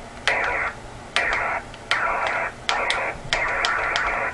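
Five short bursts of buzzy, hissing tone from a radio receiver picking up a remote control signal pulse in a regular rhythm, each lasting about half a second over faint static.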